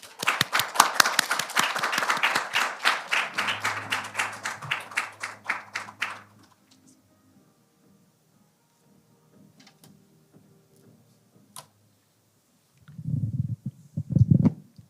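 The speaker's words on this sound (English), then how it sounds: "please join me in welcoming Professor Lee with a warm round of applause." Applause welcoming Professor Lee at an academic conference session: a burst of clapping for about six seconds that quickly dies away into near silence, followed by a few faint sounds and a short low-pitched voice.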